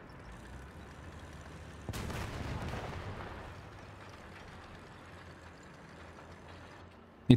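A tank cannon fires in the War Thunder video game, a single sharp boom followed by a long rumbling decay over a low engine drone, with no speech.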